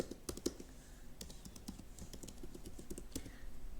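Quick, uneven keystrokes on a computer keyboard as a password is entered, a steady run of soft clicks heard close and fairly quiet with no talking.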